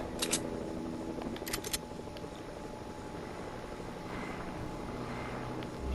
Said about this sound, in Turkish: O helikopter.